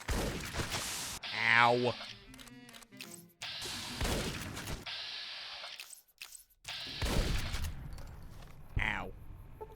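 A hunting shotgun fires in Fallout: New Vegas with several loud, booming blasts spread across the stretch, mixed with other in-game crashes and effects, while someone talks and yelps in pain.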